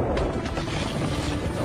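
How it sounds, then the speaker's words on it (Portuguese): Steady, loud mechanical roar with a rhythmic chopping churn, like helicopter rotors powering up nearby, continuous throughout with no talking. "Todos os helicópteros decolem agora."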